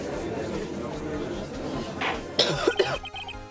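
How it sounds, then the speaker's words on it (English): A few harsh coughs burst out near the end after a stretch of muffled background noise, close and fairly loud. "And I am coughing, so I am drinking water"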